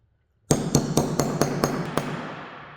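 A hammer strikes a socket to seat a bearing on a Suzuki LT80: seven sharp metallic taps at a steady rhythm, close and ringing, each slightly quieter with a changing tone.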